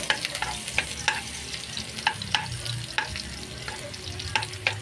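Garlic sizzling in hot oil in a frying pan, with a steady loud crackle of frying and repeated quick clicks and scrapes of a utensil stirring, close and without speech.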